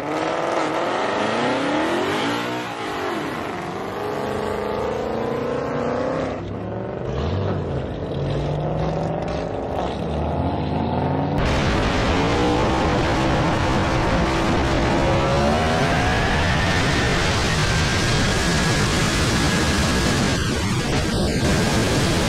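Cars revving and roaring past in a street race, a Corvette among them, with loud, continuous engine noise and rising and falling pitch sweeps as they accelerate, dense broadband rush throughout.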